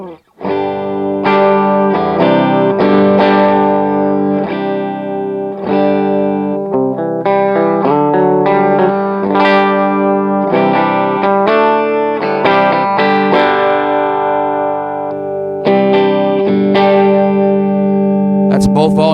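Electric guitar played through the right channel of a Granville AMD74 all-tube 20-watt amplifier with a 5-watt ceramic speaker, guitar volumes full up, amp volume and tone at noon: sustained, overdriven chords and notes ringing continuously and loud.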